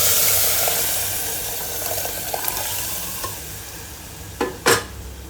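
Dal is added to sambar masala frying in a pan and stirred, a soft continuous sizzle with scattered scraping clicks and two sharper spoon knocks near the end.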